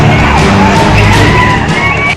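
A large crowd gathered for the Ugadi festival in Kairuppala village, Kurnool, making a loud, dense, continuous roar of many voices with scattered shouts.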